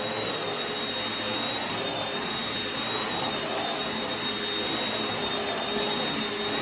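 A Gtech HyLite 2 vacuum cleaner runs on carpet with a constant, loud motor whine and airy rush, unbroken and close throughout, with no speech.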